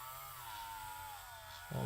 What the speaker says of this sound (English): I don't know what I'm drilling into, really.